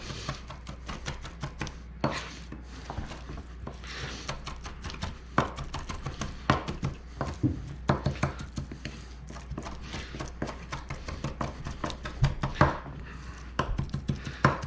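Beef-and-chili-bean stew prep: a knife mincing ingredients on a cutting board in quick, steady chops, close and moderately quiet throughout, with no talking.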